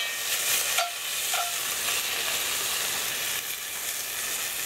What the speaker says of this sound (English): I got some floured beef in that hot oil. Gonna brown that up.